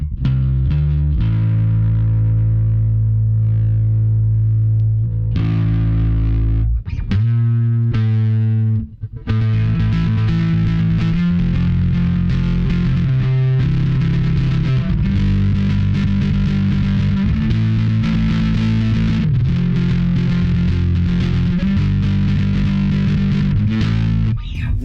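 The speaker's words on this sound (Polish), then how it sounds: "Teraz słuchajcie, włączymy sobie drive'a." A Squier CV Telecaster Bass runs through an overdrive, giving gritty, distorted sustained notes and riffs with a brief pause partway, played loud and alone with no talking.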